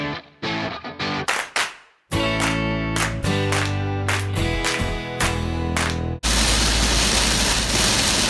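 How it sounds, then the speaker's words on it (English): Heavy rain pounds down while driving to Eddyville Raceway in Iowa, a dense, loud roar. Sharp rhythmic thumps and hits sit over the wash before it settles into a steady, unbroken downpour. "It is flat foot raining, y'all."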